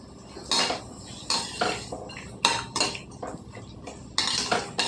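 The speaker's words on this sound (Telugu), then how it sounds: "కొద్దిగా వేగాలండి ఉల్లిపాయలు." Onions being stirred in a pan for homestyle veg fried rice, with repeated metallic scrapes and clinks of a spoon against the pan in irregular bursts, close and fairly loud, without talk.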